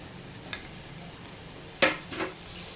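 Ground lentil paste fries in hot ghee for sweet halwa puri, making a soft, even sizzle with a couple of sharp utensil clinks near the pan.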